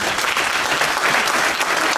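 Dense, continuous applause fills St. Joseph's Episcopal Church as the congregation honours family members, a loud, even wash of many hands with no pause.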